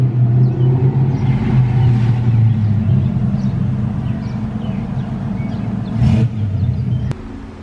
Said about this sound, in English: I think I hear a Camaro.